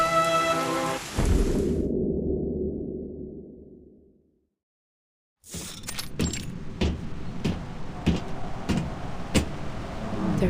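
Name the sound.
storm rain and thunder in video game Reverse: 1999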